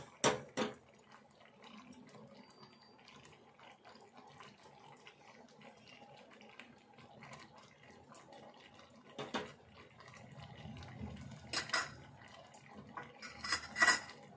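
A spoon scraping and clinking against a bowl while ghee is mixed into a batter for punugulu fritters, soft intermittent knocks and stirring, faint and close with a quiet background.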